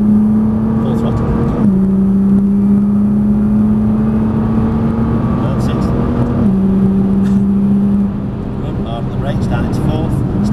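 Nissan GT-R engine at full throttle on a track day at Prestwold Hall, a steady strong drone with pitch steps at gear changes, heard from inside the car, loud and continuous.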